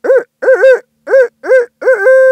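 A human voice imitates an owl's hooting to provoke a turkey gobble, giving five loud, close rhythmic hoots, the last one drawn out into a longer trailing call.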